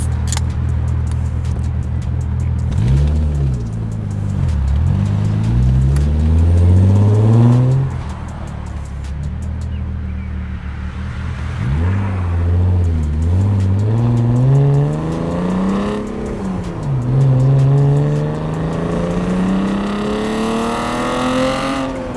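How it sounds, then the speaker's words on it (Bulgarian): A BMW E36 engine running after sitting unused for months, revving loudly and close up in repeated rising and falling surges over a steady idle, with no talking. "Най-якото чувство, когато си спалял колата от поне 3 месеца."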